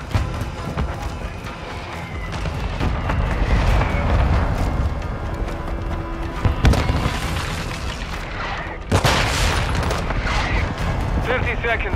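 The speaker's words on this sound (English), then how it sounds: "Our mortar strike is inbound." Mortar strike explosions and gunfire in the video game Call of Duty: Modern Warfare 2, dense booms and rattling shots rolling continuously with a sharp blast near the end, loud and busy under shouted game voice lines.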